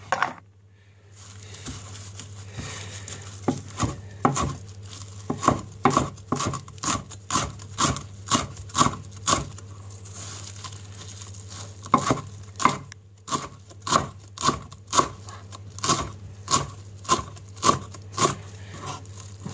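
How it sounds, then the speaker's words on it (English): Fresh parsley chopped with a knife on a board, a steady run of crisp, close taps repeating in quick rhythm, pausing briefly before resuming, over a low constant hum. "here is the parsley that we're going to be chopping up."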